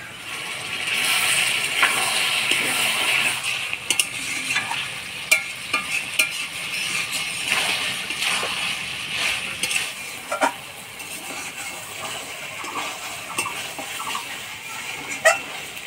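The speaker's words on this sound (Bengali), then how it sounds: "মাংসটা ভালোভাবে কষা নিলাম" Broiler chicken pieces sauté in hot oil in a pan, a constant sizzle under repeated scraping stirs and light metallic clinks of a spoon against the pot, heard up close.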